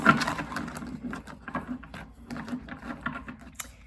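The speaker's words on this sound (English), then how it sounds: "That was a weird shuffle." Tarot cards shuffled by hand close up, a run of quick soft papery riffles and taps that rise and fade unevenly over a few seconds, with no talking.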